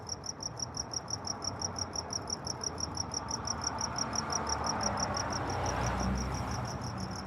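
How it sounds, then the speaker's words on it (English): Steady, rapid cricket chirping pulses on and on at an even rhythm, fairly quiet, with a soft background hiss and no voices. "Crickets, man."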